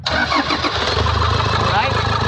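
Toyota Fortuner engine cranking and catching, then settling into a steady close idle, with people talking over it.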